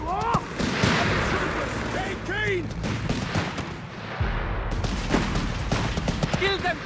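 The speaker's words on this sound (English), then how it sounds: "Damn Krauts have a machine gun." Battle sounds from the video game Company of Heroes 3: rapid machine gun bursts and scattered gunfire go on throughout, with shouted voices and whistling effects mixed in.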